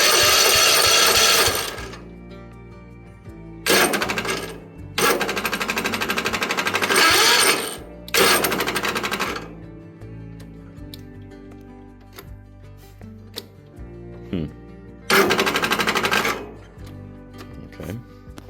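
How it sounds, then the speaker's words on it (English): Starter cranking of a Toro MX5000 lawn mower engine during a compression test, several loud mechanical bursts of rapid chugging lasting a few seconds each, separated by quieter gaps. "We will go ahead and do a compression test, I guess."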